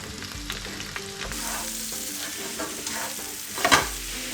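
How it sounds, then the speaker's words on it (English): Mushrooms and onions frying in a pan with steady sizzling and occasional stirring clatter, a sharper burst of crackle near the end, no talking. "into the same pan we're going to throw in our mushrooms and our onions"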